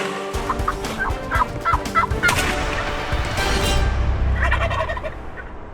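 Several wild turkey gobblers gobble in a rapid, loud burst, close by on an opening-day hunt in Texas, with further gobbles answering alone over a quieter stretch.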